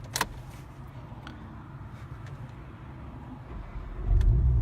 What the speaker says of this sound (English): We'll now go through the process of starting the vehicle without successful pin entry, and you'll see what happens.